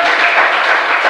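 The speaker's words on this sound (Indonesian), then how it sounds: "Kasih tepuk tangan untuk Tuhan." A church congregation breaks into loud applause at a Christmas sermon, a dense, close burst of clapping filling the brief moment.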